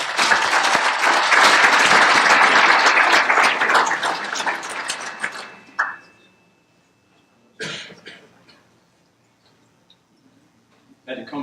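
A conference audience applauds to welcome Ted Carter to the podium at a networking event. The dense, loud clapping lasts about five seconds and then fades out. A few scattered sounds and quiet movement follow.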